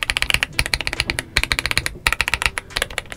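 Rapid typing on a GMK87 mechanical keyboard with Leobog Graywood V4 switches and a PET plastic layer, close and crisp, with steady bursts of poppy, clacky keystrokes and a brief pause midway.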